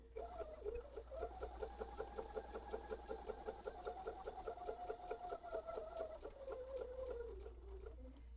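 A sewing machine stitches fabric for a pinwheel stripe table runner in a fast, steady mechanical chatter, running close and continuous over a low motor hum and slowing slightly near the end.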